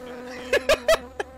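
Short bursts of insect buzzing from bees in a video game battle set at Bunker Hill, four quick droning pulses over a low background hum.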